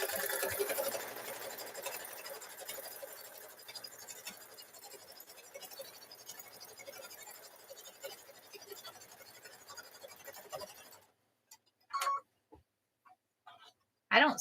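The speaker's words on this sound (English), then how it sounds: "We're going to sew that 1/4-inch seam here." A sewing machine runs a quarter-inch seam along a 13-by-1.5-inch quilt strip, a steady close whirring for about eleven seconds, then stops, leaving only a few short handling sounds.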